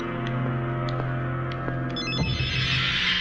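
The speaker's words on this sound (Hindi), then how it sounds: "रिंग बजी तो थी" A phone rings with a regular pulsing electronic tone over a steady low hum, then cuts off abruptly as a noisy rustle follows.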